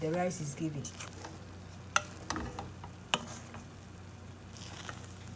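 A spoon stirs carrot rice cooked with coconut milk in a pot, giving a soft scraping, a few sharp clinks against the pot and a low sizzle underneath. Brief talk comes at the start.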